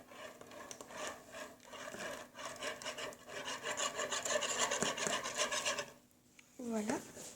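A spoon stirs a melting cake mixture in a bowl with a rhythmic, scraping rub that swells and fades, then ends in a brief scrape near the close.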